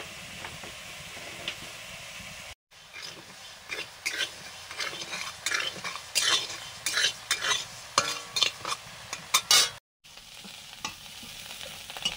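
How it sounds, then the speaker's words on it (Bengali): Lentils dry-roasted in a dry wok, stirred with a utensil: a steady close scraping and rattling of grains against the metal pan, with rhythmic bursts of stirring throughout. "শুকনো কড়াতে ঘন্টের জন্য ডাল ভেজে নিচ্ছি।"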